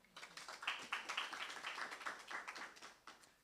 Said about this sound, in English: Colleagues, I beg you, just give them a clap.